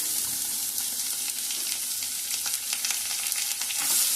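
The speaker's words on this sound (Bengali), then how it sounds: "পেঁয়াজটা ভালো করে ভাজা হোক" Chopped onions and garlic sizzle and crackle steadily in a hot pan, with occasional soft stirring sounds and no talking.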